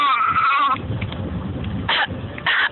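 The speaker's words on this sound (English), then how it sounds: "you got a mighty little cough in me, sir" A person gives a small, forced fake cough: one drawn-out, bleat-like throaty sound followed by two short bursts, close and fairly loud.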